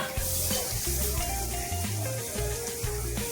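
Onion tossed into a pan over a high flame while cooking paneer chilli, a continuous close frying sizzle with low clattering stirring and a faint hum of background music.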